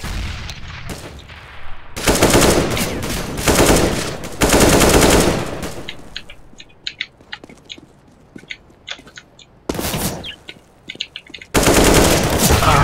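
Automatic rifle fire from a CS:GO competitive match, with long dense bursts of loud rapid shots alternating with quieter stretches of scattered single cracks and clicks.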